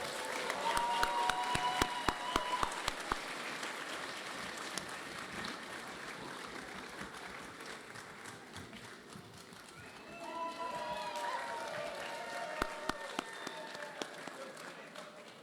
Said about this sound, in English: Let's give all these great folks one more round of applause.